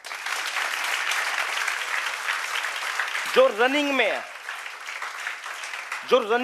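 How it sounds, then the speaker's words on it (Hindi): Loud, dense audience applause at a tuition classes event, a continuous roar of clapping that a speaker's voice briefly cuts through twice. "जोरदार ताली बजा दो"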